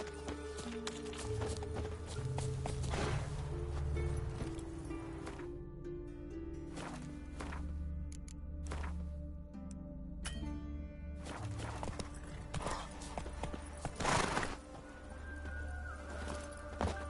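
Roach, the horse in The Witcher 3, clip-clops along steadily with a couple of neighs and whinnies. Rustling and ambient game sounds sit underneath, and there is no speech.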